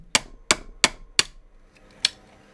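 Four evenly spaced sharp hammer strikes on magnets set in acrylic, followed after a pause by a fifth lighter tap, close and distinct with quiet in between.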